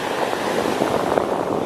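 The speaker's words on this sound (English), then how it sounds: "listen to the waves, watch them move" Steady broadband wash of Pacific Ocean surf off Malibu, a continuous rushing roar with gentle swells and some wind noise, fairly close and without talk.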